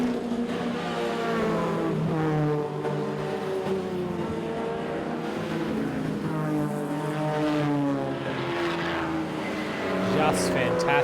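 A field of historic touring race cars, including Mustangs, Camaros, Datsuns and a Holden, roars past at Mount Panorama Bathurst, the engines droning and rising in pitch as they pass under a commentator's talk.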